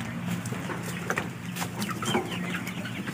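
Chickens on a poultry farm cluck and chatter over a steady background hum, with clustered calls coming from close by and no talking.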